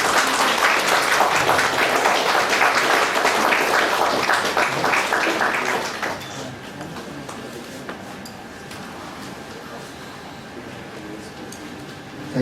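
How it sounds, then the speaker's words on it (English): A crowd claps steadily and loudly for several seconds, then the applause thins and fades into quieter room noise. "Let's have a round of applause"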